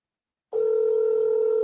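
An outgoing phone call rings back as a steady, continuous electronic tone that starts abruptly after half a second of silence and holds evenly to the end, with no voices.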